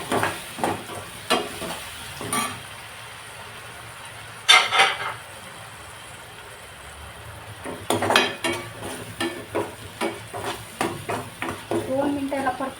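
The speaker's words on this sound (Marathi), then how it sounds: "दोन मिनिटं याला परतून घेते असं छान." Browned onion and ground masala paste sautéed in a pan for dried prawn curry: a bed of sizzling under irregular scrapes and metallic clinks of a spoon against the pan, with someone speaking at times.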